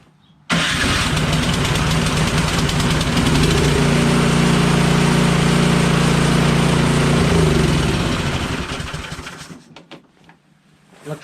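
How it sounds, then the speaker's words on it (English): A 2012 Craftsman by MTD 21-inch single-stage snowblower engine cranks on its electric start with the choke on, catches and runs at a loud, steady close-up drone for several seconds, then cuts off abruptly. "Electric start works, engine runs just fine"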